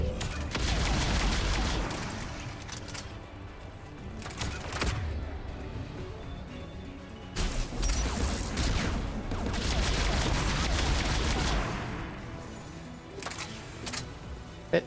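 The Spitfire, a minigun-like weapon in the video game Mass Effect 3, fires in sustained dense bursts of rapid gunfire with combat noise and short pauses between volleys.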